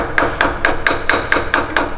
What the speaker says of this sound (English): pull the underside and tap the top with a hammer until it's out